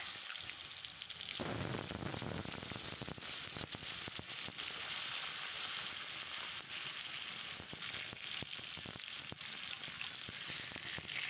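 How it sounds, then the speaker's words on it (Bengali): Potatoes sizzle in hot oil with black cumin seeds while fish is being cooked, a steady, dense frying crackle that jumps sharply at the moment they go into the pan and continues loud and close without any talk. "আলুগুলো তেলের ওপরে দিয়ে দিলাম"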